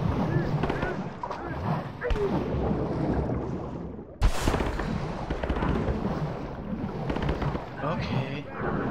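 Gunfire in Rise of the Tomb Raider: a sharp loud report cuts through mid-clip over a dense bed of game noise and ongoing talk, with a few weaker thuds earlier.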